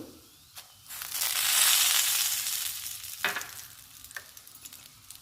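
Curry leaves, garlic and spices fry in a pan with a loud, close sizzle that swells and then eases, broken by a few sharp stirring scrapes and clinks, with no talking.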